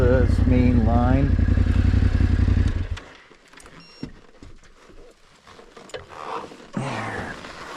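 A Yamaha Tenere 700 adventure motorcycle riding near Premier Lake, Canal Flats and Skookumchuk, its loud rumbling engine close for about three seconds, then quieter rattles and wind as the rider talks.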